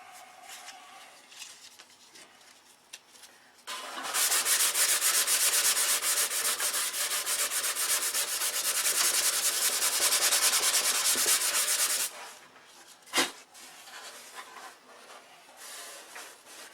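Wood being sanded by hand, a loud steady rasping scrub lasting about eight seconds, with quieter rubbing and a sharp knock before and after.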